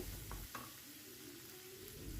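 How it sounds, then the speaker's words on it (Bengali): Shrimp frying lightly in a pan as part of a Chinese-style vegetable dish, giving a steady close sizzle with a couple of brief stirring clinks and no talking. "চিংড়ি মাছগুলো হালকা করে একদম ভেজে নেব"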